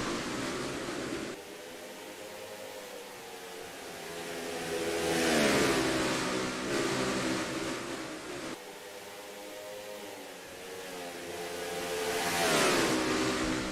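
Race cars in the NASCAR Racing 2003 video game accelerating after a restart, engine tones climbing in pitch through repeated gear shifts, each shift marked by a drop and then another rising rev.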